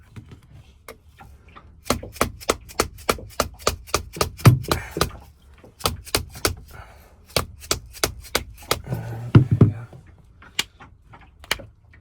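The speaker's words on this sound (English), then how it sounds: "I think I've heard you can punch a screwdriver through it and use that to open it." A screwdriver being punched through a stuck oil filter: a close series of sharp, rhythmic metallic blows in two bursts of roughly ten strikes each, with brief pauses between them.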